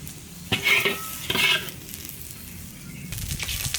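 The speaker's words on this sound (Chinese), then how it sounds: "辣椒炒香了，牵出来备用" Chili peppers stir-frying in a wok, a low sizzle broken by a few quick tossing bursts and scraping stirs, close and clear with no talk.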